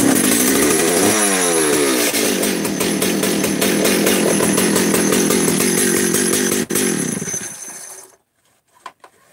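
A Stihl 034 chainsaw with a faulty starter runs loud and close at high idle, a buzzing two-stroke drone held for about eight seconds before it cuts out abruptly, followed by a couple of faint clunks.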